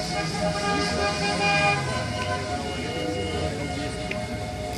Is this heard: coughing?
no